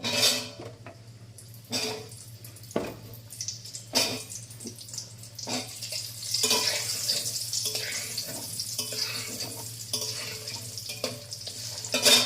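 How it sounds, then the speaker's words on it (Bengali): Papaya, potato and carrot pieces frying lightly in oil with turmeric, with a steady sizzle under repeated clinks and scrapes of a spatula against the pan, no talking. "এক এক করে সব সবজিগুলি আমি একটু হালকা করে ফ্রাই করে নেব বন্ধুরা"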